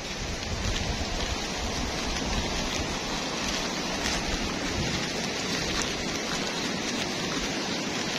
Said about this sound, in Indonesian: ini sudah mulai gerimis dulur